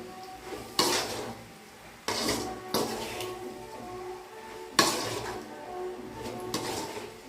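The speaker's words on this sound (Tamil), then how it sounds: "இந்த அளவுக்கு நல்லா கலந்து விட்டுருங்க" A banana flower stir-fry being stirred in a pan, giving a few sharp scraping and clattering strokes of a spoon against metal at irregular intervals over a soft sizzle, close and moderately loud with no talking.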